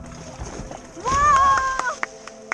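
Someone jumps into river water during rafting on the Kolad river in Konkan, making a short splash and sloshing that is partly masked by a loud shout from nearby.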